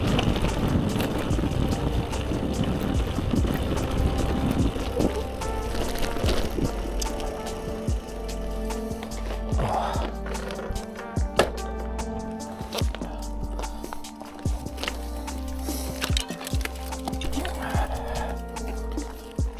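A bicycle on thick tyres rolls downhill over rough off-road ground, with rattling, crunching and heavy wind buffeting the microphone throughout and a few sharper knocks along the way.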